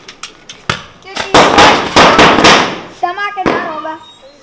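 Firecrackers burst outdoors in a quick series of sharp, loud pops and crackles. Excited voices talk over and between the bangs.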